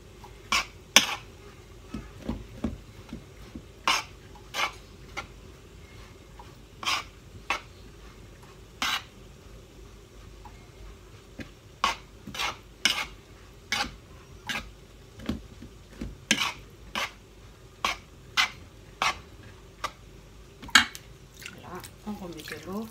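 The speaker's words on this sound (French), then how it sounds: "On va mélanger avec la cuillère." A spoon mixes couscous semolina with water and salt in a bowl, giving sparse, irregular clinks and scrapes against the bowl. They are spread over about twenty seconds, with quiet gaps between them.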